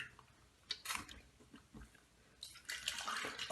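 Water splashes and runs while Martin de Candre Fougere shaving lather is rinsed off the face, in quiet, uneven bursts that swell louder toward the end.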